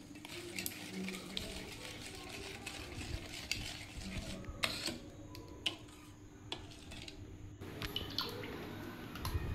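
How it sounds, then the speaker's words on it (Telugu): Curd being mixed with salt and a little water for a brinjal curd recipe, a soft wet stirring and clinking in a bowl, steady and close, with occasional sharper taps of the spoon and no talk. "పెరుగులో కొద్దిగా తగినంత సాల్ట్ వేసుకొని కొద్దిగా వాటర్ వేసుకొని బాగా కలుపుకోవాలి"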